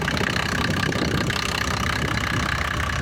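A motor pump engine at a pumping station for irrigation idles steadily and close by, a continuous even running drone with no talk over it.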